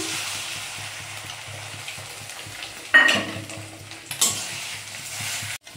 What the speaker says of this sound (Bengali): ভালো করে ভেজে নিচ্ছি বন্ধুরা পেঁয়াজ লঙ্কা দিয়ে। যখন ডিমটা দিয়ে দিচ্ছি।